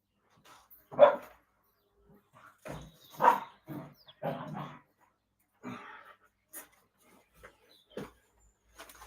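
Dogs bark inside a house in scattered short bursts, a few louder yaps among quieter whimpers and huffs, with gaps of near silence between them.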